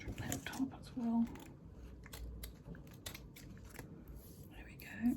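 Crisp snipping and scraping of scissors trimming paper for a lace junk journal, several short cuts close to the microphone, with faint voices murmuring underneath.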